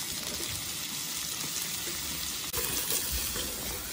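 Mushrooms cooking in a pan for a mushroom sauce to go with beef steak bites, giving a steady, dense hiss of frying and released water that runs evenly throughout, close and moderately loud.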